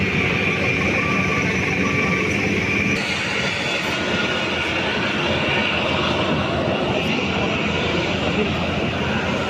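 An Alliance Air airliner's engine roars close by on the ground at Bengaluru airport, a dense, steady wash of loud noise that runs the whole time, with faint voices underneath.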